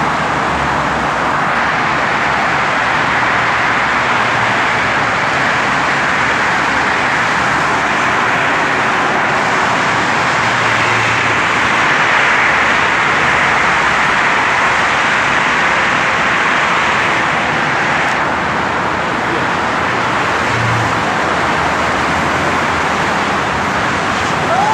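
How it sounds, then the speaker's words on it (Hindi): Continuous road traffic flows on a busy road that carries vehicles day and night, heading toward Sharjah. Cars and heavier vehicles blend into a dense, steady hum with no pauses and no talking. "देखिए यहाँ पे कहीं भी ट्रैफिक रुकता नहीं है 24 आवर्स"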